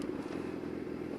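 A Yamaha YZF R6 motorcycle fitted with a Shadux exhaust gives a steady, low, rumbling engine note close by, with a slight crackle. Nobody talks.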